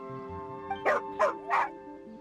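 A small dog in Genshin Impact barks three times in quick succession, sharp and close, over a soft melodic game music backdrop.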